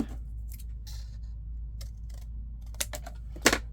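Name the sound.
scissors trimming a journal card flap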